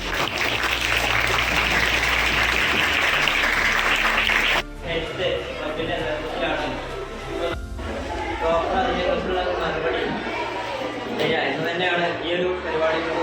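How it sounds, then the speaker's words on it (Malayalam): At a National Doctors' Day health awareness talk, an audience gives a burst of dense, close applause for a few seconds. The clapping stops abruptly and a voice continues speaking. "ഒരു കയ്യടി കൊടുക്കല എല്ലാവരും"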